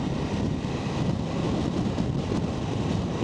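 Steady, dense wind roar buffets the microphone while riding a Ducati Multistrada V4 Rally motorcycle on a road, a constant close rush with no letup.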